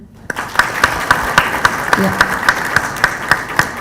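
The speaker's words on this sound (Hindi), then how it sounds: "सबसे पहले ऑडियंस अपने लिए ताली बजाएं।" Sparse, rhythmic hand claps at a valedictory ceremony, a few people clapping in a steady beat with clear evenly spaced claps over a murmur of voices.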